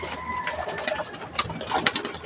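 Pigeons coo in low, throaty bursts near at hand, overlapping with light scuffling and faint mechanical rattle, without any speech.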